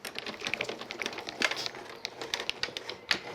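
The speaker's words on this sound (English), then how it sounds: "You're cutting through 2 layers here, so you want to give it a good pass forward and back." A blade cutting through two layers of card for a shaker card, a quick run of crisp scratchy ticks and scrapes moving back and forth, close and fairly quiet, with no talk.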